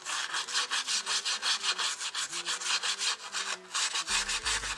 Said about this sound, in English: I have a little brush, a stencil brush, and I'm just going to start burnishing it into the tape